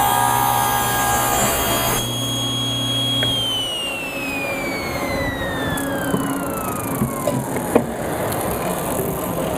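A table saw with a Forrest 48-tooth blade runs and rips wood, its steady hum winding down in a long falling whine as the motor coasts to a stop, with a few light knocks near the end.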